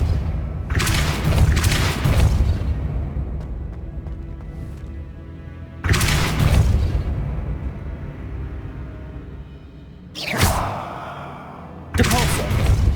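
Depulso force-push spells cast in the Hogwarts Legacy video game, heavy booming blasts repeating every few seconds, each a loud whoosh and thud that fades into rumble.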